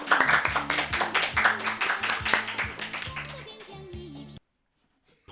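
Applause at a French Beyblade awards ceremony: dense clapping with music underneath, fading after about four seconds and then stopping.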